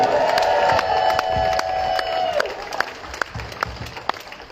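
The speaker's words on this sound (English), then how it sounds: "let's give a huge round of applause to Kendra and Hannah and the organizers for putting all of this together" A crowd at a rally against mandates at Western University claps and cheers, with a sustained shout at first, then fading into scattered individual claps and occasional whoops.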